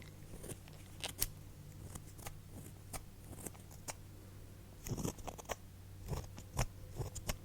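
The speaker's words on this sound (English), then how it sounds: "I'm just gonna use these little scissors here." Small, precise scissors trim eyebrow hairs in a quiet close-up setting, giving sparse crisp snips and light clicks scattered irregularly over a soft background hum.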